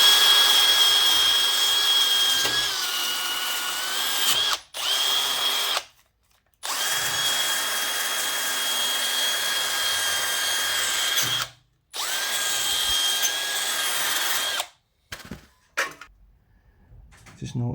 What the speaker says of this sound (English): my wire wheel to clean up the mating surface